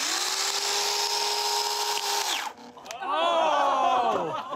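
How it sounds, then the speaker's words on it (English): A chainsaw revs with a high steady whine, then cuts into a balloon filled with oobleck, the pitch sagging and wavering as the blade bogs against the thickening mixture, loud and close. "Next up, oobleck versus chainsaw."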